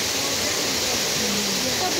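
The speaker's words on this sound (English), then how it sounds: "Oh, there's so much water. Yeah, so much water coming." Water rushing into a canal lock as a boat rises, a steady loud roaring wash that fills the whole moment without a break.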